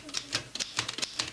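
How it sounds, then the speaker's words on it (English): Rapid, irregular mechanical clacks of typewriter keys struck one after another, close and crisp, about eight strikes in quick succession. "This is my new typewriter."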